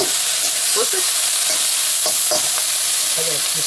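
Onions fry loudly in a hot pan with a constant bright sizzle, and a few clacks and scrapes sound as they are flipped over.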